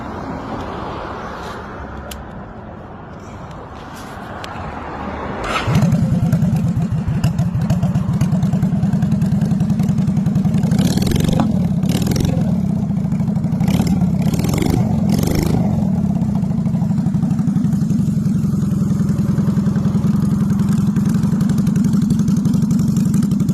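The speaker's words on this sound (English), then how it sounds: "A brown custom bobber built from a Honda Shadow platform, this bike has been modified into a stripped-down, minimalist cruiser" A 1997 Honda Shadow custom bobber motorcycle engine starts and settles into a loud, steady close-up idle with a rapid pulsing beat, after a quieter stretch of background noise.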